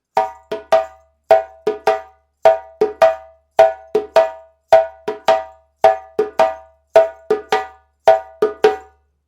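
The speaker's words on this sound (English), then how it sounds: "the second djembe part is a very typical part for 12/8 rhythms" Djembe plays a repeating slap-tone-slap 12/8 accompaniment pattern in a steady lilting rhythm, crisp sharp hits, close and alone.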